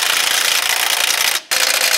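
A power tool tightens 15/16 bolts on an Allis-Chalmers G tractor, giving a loud, steady, harsh rattling whir that cuts out briefly near the end before resuming.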